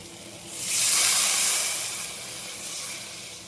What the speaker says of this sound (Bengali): দেখো আলুটা কষানো হয়ে গেছে, আমি এবার জলটা দিয়ে দেবো।